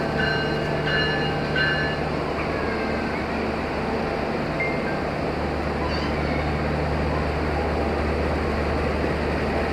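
A CC 206 locomotive hauls the stainless Ranggajati passenger train, heard as a steady loud rumble with low engine drone and a few faint squeals and tones.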